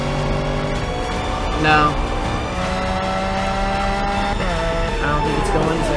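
Supercars in a drag race, a Lamborghini Aventador and a McLaren, their engines droning and rising steadily beneath continuous conversation, with a brief tire-like squeal partway through.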